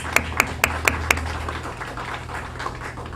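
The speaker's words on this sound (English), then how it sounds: "Let's give them a round of applause." Five sharp, distinct claps ring out in a slow even rhythm at a business seminar, greeting the production team, then fade to quiet room tone with faint scattered sounds.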